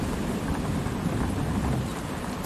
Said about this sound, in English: I know that rain is very loud.